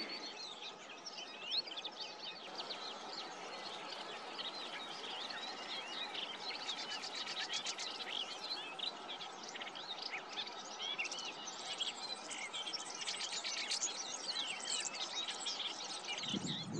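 A melodious warbler sings a rapid, chattering warble over constant outdoor background noise, with other faint chirps scattered throughout, near fishermen's huts in Gruissan, France.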